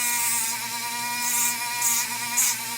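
A rotary tool spins a sanding disc against the end of a metal blank, a steady high whine with faint harmonics and short bursts of gritty scraping as the disc bites the metal.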